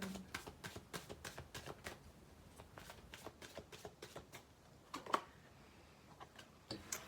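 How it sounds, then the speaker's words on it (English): Tarot cards being shuffled by hand, a run of crisp, quiet riffling snaps and taps in irregular bursts, close and alone with no talking. "One more shuffle."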